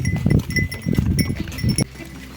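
A flock of sheep running over open village ground toward water, a busy jumble of hooves and bleats with a steady high tone ringing above it, then the noise drops away abruptly near the end.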